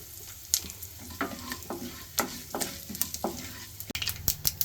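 Fennel seeds and asafoetida spluttering in hot oil, a dense run of quick crackling pops and sharp snaps over a continuous close sizzle.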